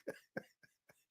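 A person coughs after laughing: four quick, close bursts, the first two strong and the last two fainter and shorter, with no talk.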